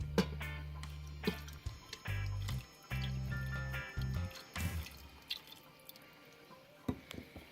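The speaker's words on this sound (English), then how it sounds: "I'm going to add the cup of water. It's actually water mixed with my concoction of jerk seasoning." Water mixed with jerk seasoning poured into an Instant Pot for Jamaican jerk chicken, heard as close dripping and splashing liquid in short bursts amid kitchen handling noises.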